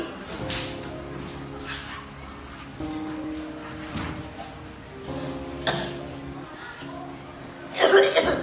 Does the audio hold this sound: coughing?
yes